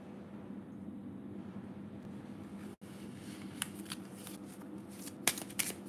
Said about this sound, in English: We are picking cards for your past, present, your future, the final outcome of this reading